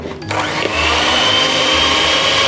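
Electric mixer creaming butter and sugar, starting up after a brief click and settling into a steady, loud motor whir that runs on without pause.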